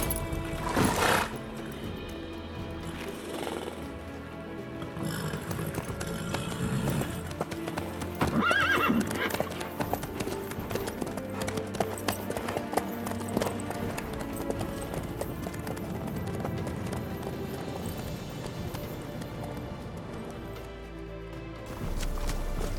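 A horse in the video game The Witcher 3 clip-clops in a steady, continuous gallop with an audible neigh, close and prominent throughout, with faint talk underneath.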